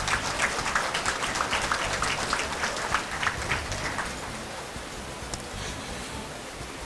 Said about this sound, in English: Please applaud the accomplishments of the Latino Business Association.